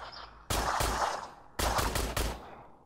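Enemies in the video game Industria fire guns in two loud bursts of rapid shots, each ending with a short decaying tail, with a brief quiet gap between them.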